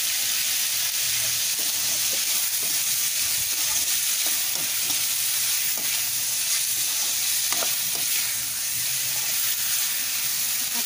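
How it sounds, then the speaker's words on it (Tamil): Prawn curry masala frying and being stirred in a pan, a loud continuous sizzle and hiss with scattered scraping stirs throughout. "இது அதுமாரி நல்லா வதக்கி வறுத்துடணுங்க நல்லா வாசனை வர்ற அளவுக்கு வறுக்கணுங்க"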